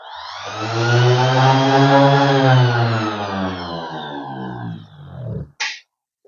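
A power sander with 240-grit paper works down painted wood, its motor whining loudly at close range and then winding down in pitch before a final short burst and silence.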